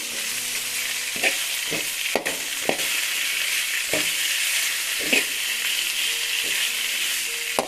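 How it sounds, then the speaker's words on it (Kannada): Onion and tomato fry in oil in a pan for ridge gourd peel chutney, with a steady close sizzle throughout and occasional clicks and knocks as the mixture is stirred. "ಎಲ್ಲ ತುಂಬ ಚೆನ್ನಾಗಿ ಆಯಿಲಲ್ಲಿ ಫ್ರೈ ಆಗಬೇಕು"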